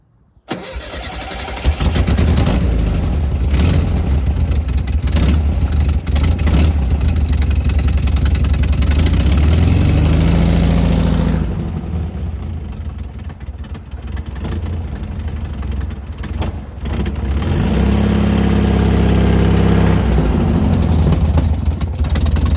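A VW Beetle engine starts and runs steadily through a test ride, loud and close, with a dip partway through and then a steady drone again, no talking.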